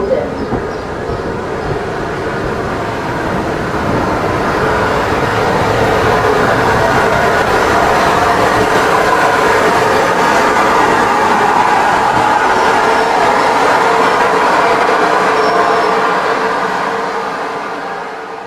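A steam train rumbles steadily at a Swanage Railway station platform in Dorset, a broad continuous roar of engine and carriages that swells slightly, then eases off toward the end, with faint voices.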